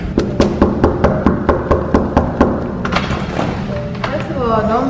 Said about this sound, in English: Don't bang on my door that many times, okay?